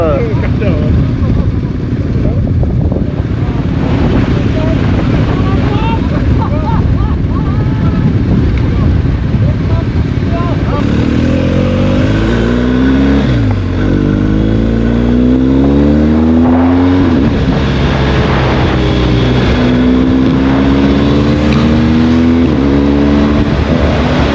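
Heavy wind buffeting while riding a motorcycle on a Tunisian road trip, a loud continuous roar with engine tones rising and falling as gears shift; a voice speaks under the noise.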